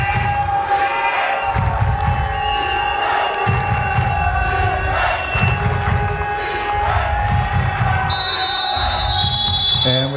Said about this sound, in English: You hear the home team crowd is still in the game,